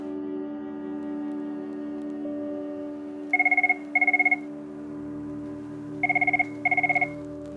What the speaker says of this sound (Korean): 이번엔 제 자리에 있는 전화가 울리기 시작했습니다